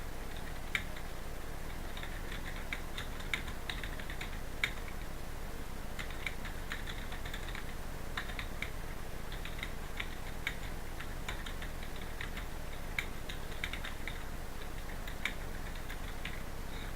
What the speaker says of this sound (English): So you can type your message here.